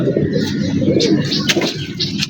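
Pigeons of an old traditional breed kept at a home loft coo steadily and close by, a low throaty rolling drone running throughout with a few soft higher chirps over it, and no talking.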